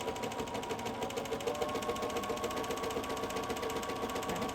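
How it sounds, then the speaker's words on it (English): A sewing machine runs a steady zigzag stitch over bobbin thread with a free motion foot, a fairly quiet, even mechanical whir with a rapid regular pulse. "I just held on to the back thread and put the machine on zigzag, and I'm just going to start stitching"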